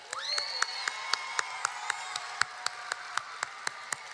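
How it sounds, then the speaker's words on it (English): A large arena audience at a National Indigenous Peoples Day event applauds and cheers, with a steady crowd roar and high whoops over a run of sharp, evenly spaced beats. "Let's give him a round of applause."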